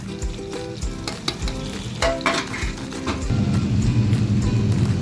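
Spices, ginger-garlic, tomato and biryani masala for mutton biryani get stirred in a hot pan: a frying sizzle under repeated metallic spoon scrapes and clinks, growing steadier and louder toward the end.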